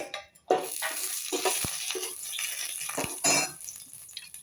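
Whole spices including bay leaf, cinnamon, cloves and a whole black cardamom frying in hot oil in a pan for basmati pulao, with sizzling bursts and a few stirring scrapes and clinks close by, no talking.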